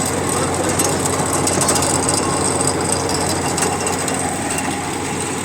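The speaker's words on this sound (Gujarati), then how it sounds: "ટ્રેક્ટર લગભગ પચાસથી સો આરપીએમ ડ્રોપ કરીને ચાલે છે" A tractor engine runs steadily while pulling a rotavator through a fennel field, making a continuous, fairly loud drone with a rough mechanical rattle and no break.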